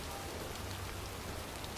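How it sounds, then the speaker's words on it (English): Steady rain falls in a cemetery in the video game Heavy Rain, a dense, even hiss of drops on surfaces with a low rumble underneath and no voices. "It's cold. It's raining."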